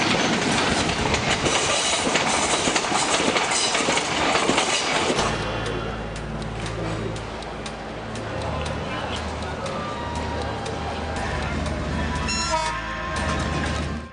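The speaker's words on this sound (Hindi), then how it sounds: "आज पहली बार उत्तर प्रदेश के बरेली और मुरादाबाद के बीच हाई स्पीड ट्रेन का ट्रायल किया गया" A Spanish Talgo high-speed train on a trial run between Bareilly and Moradabad roars past loudly at first, then settles into a steady rumble with clicking wheels and a brief horn-like tone near the end.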